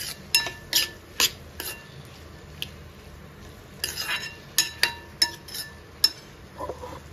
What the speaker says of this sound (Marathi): टोमॅटो छान परतून घेऊ मऊसर होईपर्यंत